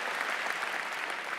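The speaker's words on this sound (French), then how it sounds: "c'est pas la peine d'applaudir comme ça" An audience applauds at a Jean-Luc Mélenchon political rally in Tours, France, a steady, dense burst of many hands clapping at once, even and continuous throughout the short stretch.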